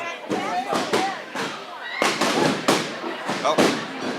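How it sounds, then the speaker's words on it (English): Balloons popping at a community awards banquet, a quick series of sharp bangs scattered across a crowded room, mixed with chatter and voices. "So now is the time for you all to pop your balloons."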